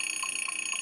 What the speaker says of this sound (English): 10-minute timer.